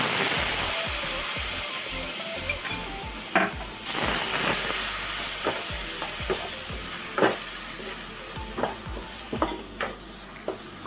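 Brinjal curry fries in a pan as tamarind goes in, giving a continuous loud sizzle broken by sharp clinks and scrapes of stirring, with no talking.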